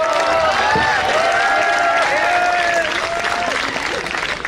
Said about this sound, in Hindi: आपने मेरे स्वागत में जो घनघोर तालियां बजाई हैं, इसके लिए आपका बहुत शुक्रिया अदा करती हूं।